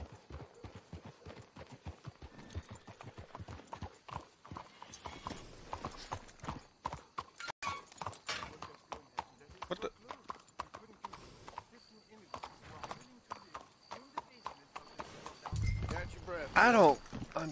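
Horses clip-clop at a walk in the video game Red Dead Redemption II, a steady run of hoof falls on the ground with a short whinny near the end, while people talk over it throughout.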